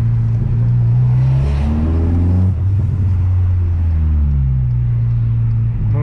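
A car running anti-lag accelerates close by with a loud, deep engine drone that swells and dips across several throttle pulls, with no talk over it.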